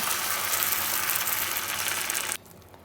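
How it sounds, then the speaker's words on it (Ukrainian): Zucchini pancakes sizzle loudly in a hot pan, a dense crackling hiss that cuts off abruptly near the end. "Смажимо на сковорідці."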